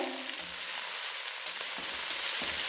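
Spring onions frying in oil for veg fried rice, giving a continuous bright sizzle like steady hiss close by, with a few faint clicks of a spoon and no talking.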